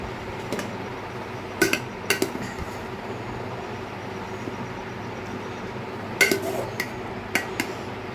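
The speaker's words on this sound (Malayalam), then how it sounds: "ഇപ്പോൾ നമ്മുടെ പാത്രത്തിലോട്ട് നമ്മൾ ആ ചോറ് മിക്സ് ചെയ്യാൻ പോവുകയാണ്" Cooked rice for a quick biryani is stirred in a metal cooking pot, giving scattered clanks and scrapes of a utensil against the pot, some in quick clusters, over a low steady kitchen background.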